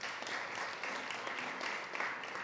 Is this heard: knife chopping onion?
no